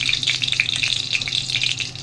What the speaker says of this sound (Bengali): 5 ফোড়ন দিয়ে দিয়েছি কড়াই।